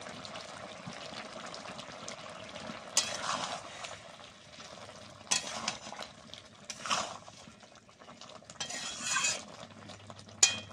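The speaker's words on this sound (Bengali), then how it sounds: "ভাজা মশলাটা দিয়ে দিচ্ছি শুক্তোর মধ্যে" A spoon stirs fried spice mix into a pan of Bengali shukto, making soft scraping and clinking strokes in a few bursts over a quiet, faint sizzle, with no talk.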